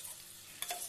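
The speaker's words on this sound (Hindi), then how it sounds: "अब हम second round of chicken for भुना फ्राई डाल रहे हैं" Chicken pieces and a piece of liver being stir-fried for bhuna in Amritsari chicken, giving a soft steady sizzle with a brief stirring scrape near the end, faint and without talk.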